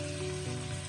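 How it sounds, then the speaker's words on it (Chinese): Tomatoes stir-frying in a wok with a little oil, scallion and ginger, a loud, close, continuous sizzle with no voices. "这里我们充分的翻炒均匀，把西红柿炒干水分，炒出汤汁。"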